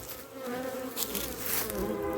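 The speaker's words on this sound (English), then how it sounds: "Bees here look good." Honey bees buzz steadily around their hive during a pest-control, feeding and splitting inspection, a dense continuous drone close to the ear with no talk over it.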